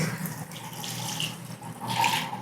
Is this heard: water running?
yes